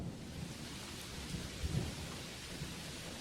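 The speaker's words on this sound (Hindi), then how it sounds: "पहले हल्की बूंदाबांदी हवा के साथ हुई, फिर एकदम तेज बारिश।" Steady, dense rain pours down with a constant hiss and soft low rumbling, heard from nearby without any voices.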